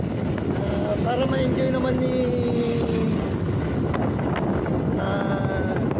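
Wind buffets the microphone in a constant low roar during a motorcycle ride on a highway in Tayum, Abra, with the motorcycle engine droning underneath and a voice speaking briefly.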